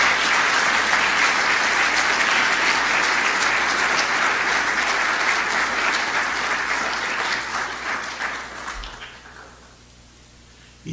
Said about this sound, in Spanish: Dale otro aplauso.